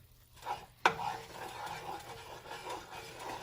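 Gravy is stirred in a pan after steak frying, with a spoon scraping and clinking against the bottom, one sharp knock early, then soft continuous scraping under quiet background noise.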